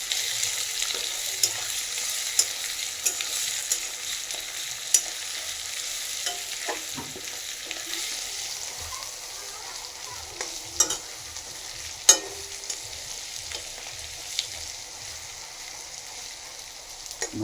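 Meat masala frying in a pan, a soft steady sizzle broken by scraping stirs and occasional sharp clicks of the spoon against the pan; no talking.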